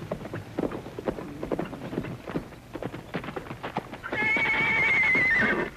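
A horse rides into a Western frontier town, its hooves clip-clopping in a quick rhythm up close before it gives a loud, drawn-out neigh near the end.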